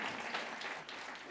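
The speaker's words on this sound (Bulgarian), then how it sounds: "Аплодисменти, дами и господа." Audience applause at a museum talk about dinosaurs: a soft, continuous patter of many hands clapping, heard at some distance with no speech over it.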